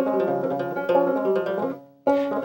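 Krar lyre playing the Ethiopian song Shegitu with ornamentations, a bright plucked run of quick notes that pauses briefly near the end and then resumes, close and clear with no voices.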